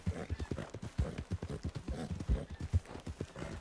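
Donkey hooves clip-clopping in the RedM video game, a steady run of close, even hoofbeats throughout with no talking.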